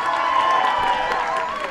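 Crowd at a combat-sports fight night applauding and cheering an international referee, dense clapping mixed with shouts and voices, loud and continuous.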